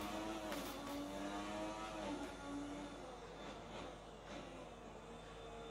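Retro Formula 1 race cars in a video game, their engines whining at high pitch and rising and falling through gear changes, one car going past, moderately distant and fairly quiet.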